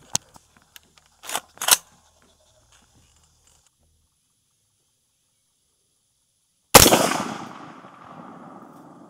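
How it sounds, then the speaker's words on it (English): A single sharp gunshot cracks out loud and close during a field test of a Feyachi V30 red dot sight, its report decaying over about two seconds, preceded by a few faint clicks and handling noises. "I'm gonna take a shot. And then I'm gonna make sure that I'm hitting."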